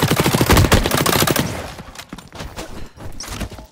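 Rapid bursts of Kinetic Arbiter gunfire in The Cycle: Frontier, dense and loud at first, then thinning into scattered, fainter shots.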